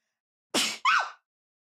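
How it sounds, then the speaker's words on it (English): A single close sneeze, a sharp breathy burst followed by a short voiced release, alone in silence. "And sneezing."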